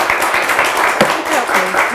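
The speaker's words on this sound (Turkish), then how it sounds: "Efendim soru gelirken bize bir alkış verir misiniz?" Studio audience applause on the Turkish word-game show Kelime Oyunu. A dense, steady wash of clapping runs throughout while a voice talks faintly over part of it.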